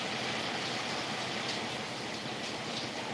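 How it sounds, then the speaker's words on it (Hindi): Steady rain falls in a dense, even hiss throughout, with no voices over it. "बारिश हो रही है सुबह से।"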